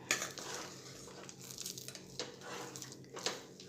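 Peanuts get stirred into vegetable frankie stuffing in a pan, with soft scraping and shuffling of a spoon through the mixture and faint clinks against the metal, quiet and close with no talking.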